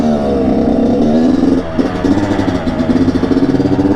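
Kawasaki KX112 two-stroke dirt bike engine running close by, loud and buzzy, with revs rising and dropping and a brief dip midway before it picks back up into a pulsing idle.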